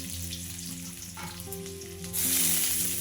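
Garlic and a heap of onions hit well-heated mustard oil, a dense continuous sizzle close by that jumps louder and brighter near the end, with no voices over it.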